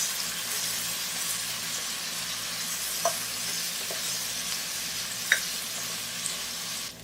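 Ginger garlic paste frying in a pan for mutton biryani: a steady loud sizzle fills the whole stretch, with a few faint clinks of a spoon scattered through it.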